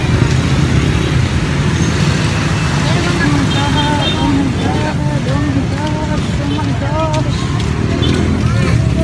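Street traffic in the Philippines, with a motorized tricycle among the passing vehicles, rumbling steadily and close by while several people chat and exclaim over the noise.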